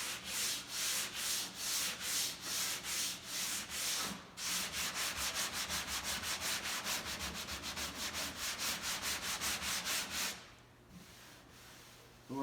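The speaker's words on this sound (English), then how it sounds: "There's a little more sanding to do." Rhythmic back-and-forth strokes of 80 grit sandpaper on car body filler during dent repair, fast rasping passes that pause briefly, then resume at a quicker, even pace before stopping.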